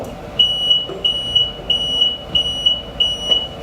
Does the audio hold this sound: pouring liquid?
no